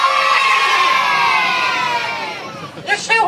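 Children's audience at a Punch and Judy puppet show in Otley cheering loudly, a sustained crowd of shouting young voices that fades slightly before a few sharp bursts of fresh shouts at the end.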